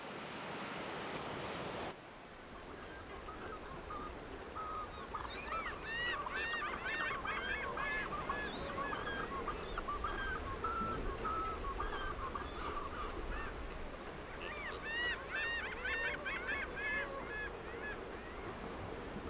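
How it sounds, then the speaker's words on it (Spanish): Many waterbirds honk and call together in a noisy colony in Torres del Paine, Chilean Patagonia, over a constant wash of wind and surf, the calls rising in clustered bursts. "atraen a las aves acuáticas de la región patagónica, que forman ruidosas y nutridas colonias"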